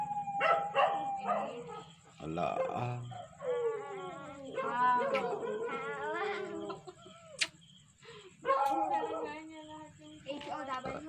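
A dog howls and whines at night in a quiet residential subdivision, drawn-out wavering cries rising and falling across the clip, with chickens clucking nearby and a person speaking briefly.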